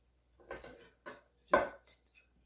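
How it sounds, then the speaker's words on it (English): A rounded-edge knife rocks back and forth over garlic, chopping it coarsely on a board. There are four distinct close knocks, the third loudest. "I take a knife with a rounded edge, put my hand on top, hold onto it like this, and then just rock it back and forth."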